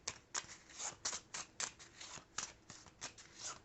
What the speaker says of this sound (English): So let's shuffle my hand.